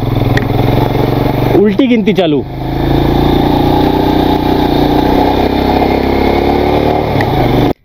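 A Royal Enfield Scram 411 motorcycle rides up a mountain road with hairpin bends, its engine a steady, loud drone throughout. Someone speaks briefly over it early on.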